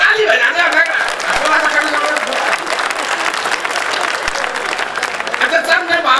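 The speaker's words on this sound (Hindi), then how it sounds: "एक बार ताली बजा दे।" An audience at a Hindi comedy and satire poetry gathering applauds steadily and loudly throughout, with crowd chatter and some laughter mixed into the clapping.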